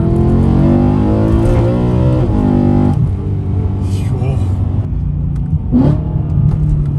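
A BMW E92 M3 engine revs loudly and up close, pitch rising and dropping through gear changes and downshifts, with a voice talking over it.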